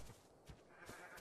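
A short goat-like bleating call from a Dilophosaurus creature in the game Ark, two or three brief nasal cries in quick succession, faint and alone.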